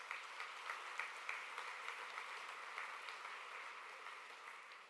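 An audience at an awards event applauds the judging panel, a steady, even wash of clapping from a large crowd, slightly distant and sustained throughout.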